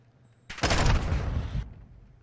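Heavy automatic gunfire in Call of Duty: Modern Warfare 2, a loud continuous burst of rapid shots that starts abruptly and runs about a second before cutting off, with no talk over it.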